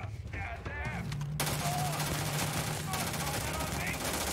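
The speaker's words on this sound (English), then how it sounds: "the guns are actually a lot of fun in this game" Gunfire in the sci-fi video game Starfield, a burst of rapid shots followed by sustained automatic firing and crackling impacts, fairly loud and dense, with game sound effects layered throughout.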